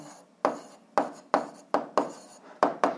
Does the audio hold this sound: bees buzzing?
no